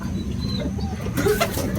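A racing pigeon coos softly a few times, close by, over a low background hum.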